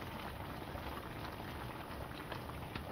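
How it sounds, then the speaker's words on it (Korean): Pork kimchi rib stew bubbles steadily in a pot, a dense, even simmer of small pops and burbles heard close and alone. "보글보글 끓고 있습니다."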